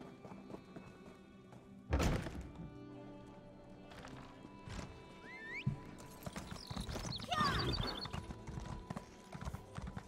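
Horse hooves clip-clop on a game mount in Elder Scrolls Online, with a whinny and a thud mixed in over layered game ambience, and a louder burst of hoofbeats near the end.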